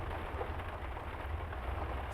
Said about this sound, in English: I made it just before the rain.